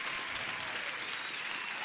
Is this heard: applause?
yes